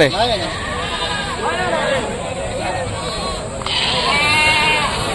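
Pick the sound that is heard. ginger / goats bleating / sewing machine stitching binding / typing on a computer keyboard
goats bleating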